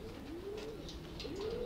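Racer pigeons coo in a close, steady run of soft, throaty warbles that rise and fall, with no other sounds.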